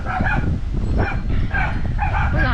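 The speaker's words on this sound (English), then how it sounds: "The dogs are barking because our floaties are going away." Several dogs bark and yip continuously close by, an overlapping agitated chorus beside a filled backyard pool being leveled, with whimpers mixed in.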